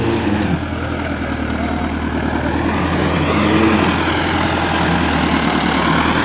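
A tractor strains to climb onto a road while pulling a heavy load, its engine a loud, close, steady diesel drone with a deep low rumble and rapid chugging that builds slightly midway, with no speech.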